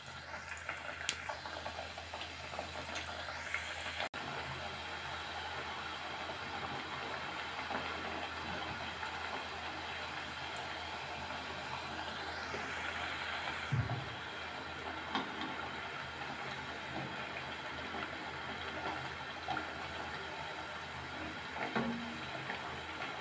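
Rice flour thattai frying in medium-hot oil over a low flame, giving a steady, soft, continuous sizzle and bubbling that stays even throughout, with no voices.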